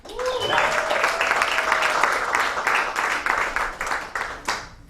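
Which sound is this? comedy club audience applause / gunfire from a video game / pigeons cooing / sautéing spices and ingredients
comedy club audience applause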